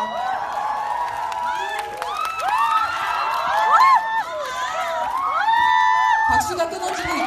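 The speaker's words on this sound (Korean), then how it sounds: "큰 박수 부탁드립니다." A cinema audience at a live talk event for the film The King cheers, whoops and shouts as guests come on stage, a dense crowd din with high excited voices rising over it throughout.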